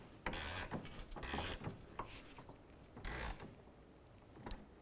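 A ratchet with a 14mm socket snugs up the rear strut bolts on a 2001-2007 Volvo V70, giving three or four short bursts of rapid clicking separated by brief pauses, close and fairly clear.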